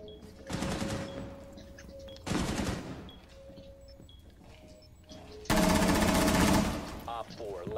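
Automatic MP7 submachine gun fire in the Rainbow Six Siege video game, three loud sustained bursts separated by quieter gaps, with in-game voice chatter around them.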